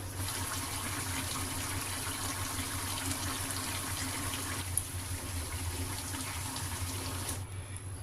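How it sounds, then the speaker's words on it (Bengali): Water pours steadily from a tap into a cooking pot for a fish-head and bottle-gourd curry, making a loud, continuous gushing, splashing fill that cuts off abruptly at the end. "এখন এর মধ্যে আমি সামান্য পরিমাণে জল দিয়ে দেব।"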